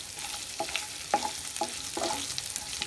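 Pork pieces frying in their own rendered fat in a pan, a steady close sizzle broken by several sharp stirring scrapes, with no talking.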